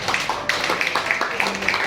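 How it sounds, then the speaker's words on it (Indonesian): Church congregation at a Christmas service claps for God in a quick, fairly regular rhythm of sharp hand claps, fairly close, with voices mixed in. "Tepuk tangan bagi Allah kita."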